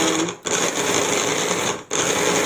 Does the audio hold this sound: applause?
no